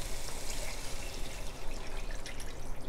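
Water pours steadily into a cooking pot on a stove flame while making rancho-style mole with chiles, a continuous dense splashing rush that stays close and even for the whole few seconds with no talk.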